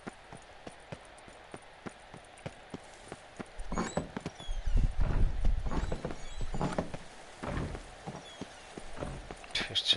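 Horse hooves clip-clop in a PS4 video game, starting as faint regular taps and then growing into a louder, busier run of galloping hoofbeats, with brief whinny-like tones near the end.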